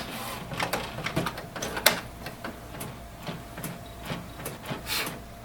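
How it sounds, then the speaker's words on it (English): An HP Officejet 6700 printer runs a test page, giving quiet rapid mechanical clicks and ticks, a whirring feed and irregular sharper clacks as the print head shuttles back and forth. "Sounds like it's printing out a test page."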